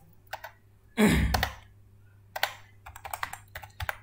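Kotlin code typed on a computer keyboard in short bursts of clicks, with a louder flurry near the start and scattered keystrokes afterward, close and clear with no talking.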